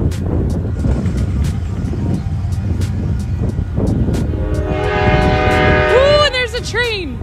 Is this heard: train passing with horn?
yes